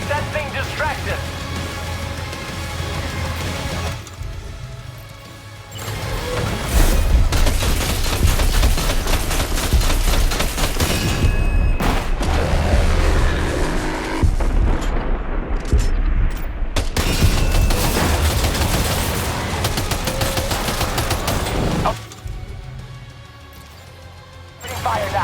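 Sustained gunfire in Death Stranding 2 during a fight with a giant ghost mech: dense, loud bursts and crashing impacts rolling almost continuously for long stretches, with brief quieter gaps and voices talking over the battle.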